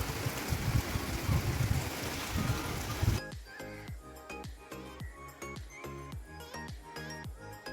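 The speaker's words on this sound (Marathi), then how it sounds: "जोरदार असा आता पाऊस आला आहे" Heavy rain pours down in a dense, loud roar for a few seconds, then breaks off into scattered drips and tapping.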